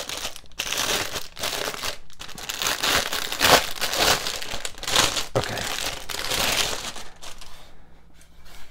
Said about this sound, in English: I'm going to try to open this without crinkling too much